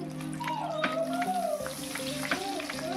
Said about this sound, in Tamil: எண்ணெய் நல்லா சூடாகிடுச்சு. இப்போ நம்ம ரெடி பண்ணி வச்சுக்கிற சோளத்தை வந்து இதில் சேர்த்துடலாம்.